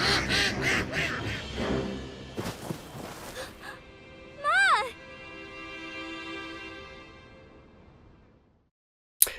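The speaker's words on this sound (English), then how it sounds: "She's petting a duck! Oh, quack!" A duck quacks in the video game My Time at Sandrock, a short bright burst standing out midway through a busy stretch of game audio with characters talking over background music.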